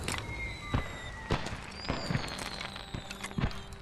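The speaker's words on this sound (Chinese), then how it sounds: "原来这边要放烟花" Fireworks in a puppet-themed Little Nightmares game, scattered sharp pops and crackles with faint whistling trails, several bursts spread over a few seconds at moderate distance.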